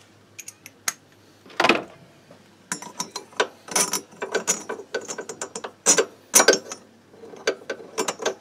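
Ratchet clicks while loosening a bolt on a Kymco Agility 50 two-stroke scooter, a burst of close, sharp, irregular clicking with brief pauses and a few metallic clinks.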